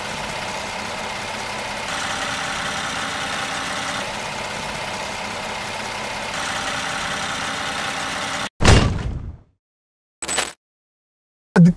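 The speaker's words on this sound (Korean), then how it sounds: "이 그랜저 신형에 들어간 스마트 스트림 람다3 엔진도 네. 소음을 굉장히 뭐 보강했다고 합니다." Hyundai Grandeur with its Smart Stream Lambda3 engine idling with the hood open, a steady even hum close by that cuts off abruptly, followed by a couple of short bursts.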